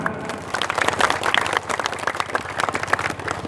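Audience at a GRIB community gathering in Losarang, Indramayu, breaks into dense, sustained applause, a steady wash of many hands clapping close by with rippling peaks throughout.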